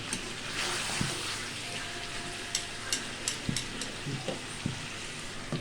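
Country chicken curry fries in a pot, giving off a steady sizzle while a spoon stirs and scrapes it, with several sharp clinks of metal against the pot.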